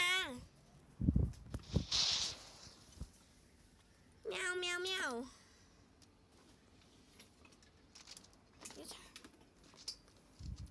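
A cat gives a couple of short meows, one near the start and a longer, wavering one midway, between clicks, rustles and quiet indoor voices.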